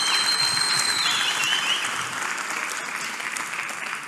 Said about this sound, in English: give a warm round of applause to our CEO for a job well done